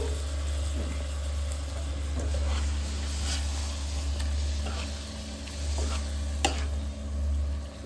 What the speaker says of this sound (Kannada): ಆಮೇಲೆ ರೋಸ್ಟ್ ಮಾಡಿರೋದಕ್ಕೆ ಚಿಕನ್ನ ಮ್ಯಾರಿನೇಟ್ ಮಾಡಿರೋದನ್ನ ಹಾಕಬೇಕು.